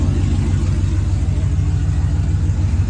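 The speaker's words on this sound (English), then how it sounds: "here's a tow truck" A tow truck engine runs close by, a loud, steady low rumble with a regular throbbing pulse and no voices over it.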